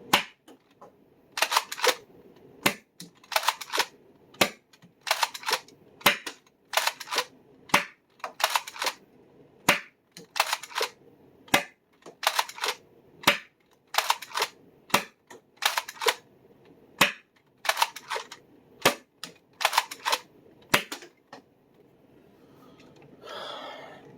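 A Nexus Pro foam dart blaster fires cut-down waffle head darts in a long run of about two dozen sharp, evenly spaced shots, loud and close, with no talking.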